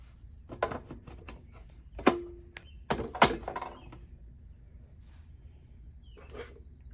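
A fuel tank being fitted back onto a small engine: scattered close plastic and metal knocks and thunks, with a couple of sharper clunks, over quiet background and no talk.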